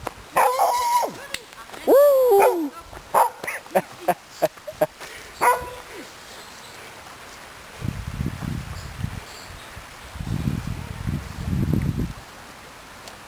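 A dog barks and yips a few times up close outdoors near Pierrefeu-du-Var, followed by rustling and movement; a person briefly exclaims.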